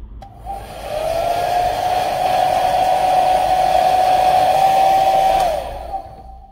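A hair dryer at about 80°C, heating a Samsung A54 5G phone's back cover, whirs on with a steady high-pitched whine and airy rush for several seconds, then switches off; no talking.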